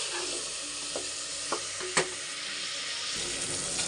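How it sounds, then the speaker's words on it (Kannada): Chopped tomatoes and masala fry and sizzle in a pan for eggplant curry, a steady close hiss with a few soft stirring knocks and scrapes and no talking. "ಇದನ್ನೆಲ್ಲ ನೀಟಾಗಿ ಫ್ರೈ ಮಾಡಿ"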